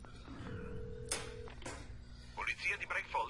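A telephone in Alan Wake gives a short steady tone and then a brief electronic line sound, fairly quiet and mixed with game noises, with a voice speaking during part of it.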